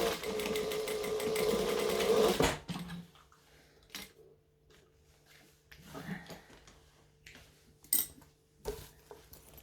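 Stitching down the side of a vinyl bag, a sewing machine whirs in one loud, steady run, then stops. Scattered light taps and handling knocks follow.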